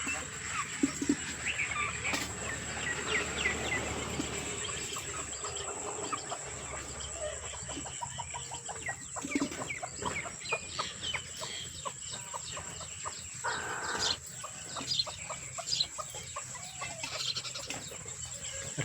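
Small birds chirping in a home garden, repeated short calls close by amid ongoing bird chatter, with a person talking over them throughout.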